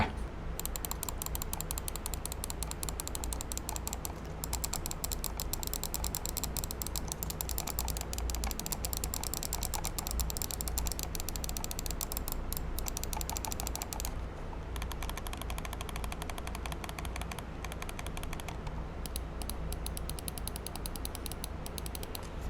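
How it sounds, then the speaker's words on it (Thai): Mouse buttons on a NUBWO X42 Solaka gaming mouse are clicked over and over in fast, dense runs of sharp clicks, close and crisp, with a couple of brief pauses and no talking. "จากที่ฟังเสียงคลิกไปนะครับ ก็ทำให้รู้ว่าเมาส์ตัวนี้นี่เสียงกด นี่คือลั่นมากนะผม"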